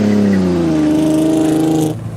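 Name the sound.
car engine revving with clutch trouble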